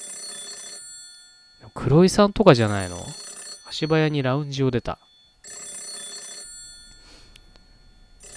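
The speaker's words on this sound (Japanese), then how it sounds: "電話すごいなってんな。" A telephone bell in the video game Shin Kamaitachi no Yoru rings in steady repeated bursts, loud and close, stopping while someone speaks in Japanese over it and then starting up again once he falls silent.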